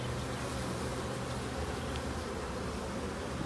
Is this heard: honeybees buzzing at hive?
yes